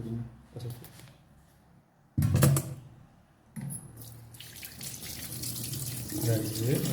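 Raw beeswax is washed by hand in water, with bursts of splashing and pouring that swell into a continuous running wash, while a person talks in between.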